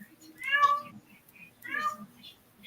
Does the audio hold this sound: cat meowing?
yes